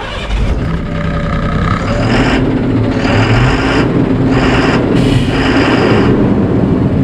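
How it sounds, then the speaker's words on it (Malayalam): An Ashok Leyland 1920 HG BS6 heavy truck's diesel engine starts and settles into a loud, rough idle, with a dense, steady rumble close by and a few surging bursts along the way. "ഇതാണ് എഞ്ചിൻ്റെ സൗണ്ട്."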